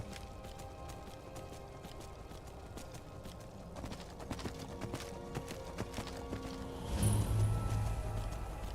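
Steady clip-clop of horse hooves in Skyrim at a brisk pace over a dense rumbling background, growing louder and heavier near the end.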